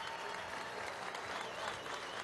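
An audience applauds at an official ceremony installing the hydrocarbons engine of the Orinoco Oil Belt in Venezuela: steady, dense crowd clapping that holds at an even level throughout.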